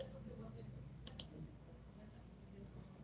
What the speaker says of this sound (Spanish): Entonces yo podría hacer clic derecho por aquí